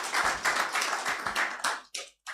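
A live audience at a business television Q&A session applauds in a loud, close burst of clapping that thins out and stops in a few final claps.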